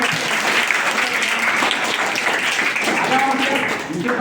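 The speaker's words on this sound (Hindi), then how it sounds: "एक बार जोरदार ताली।" A live poetry-event audience bursts into loud, steady clapping that fills the room, with voices and cheers mixed into the applause throughout.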